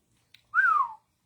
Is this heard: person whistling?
yes